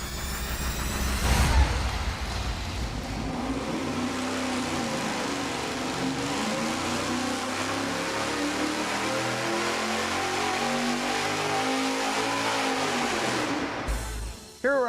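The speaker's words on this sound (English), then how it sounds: "Now we're gonna run the 1 3/4 inch header with the supercharger." A supercharged V8 fitted with 1 3/4 inch headers roars on a dyno, climbing in pitch through a long sustained pull before cutting off sharply near the end.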